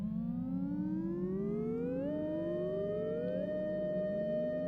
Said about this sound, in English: You hear some delay and reverb, so it lags a bit behind